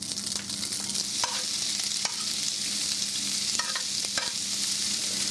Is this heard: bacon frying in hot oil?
yes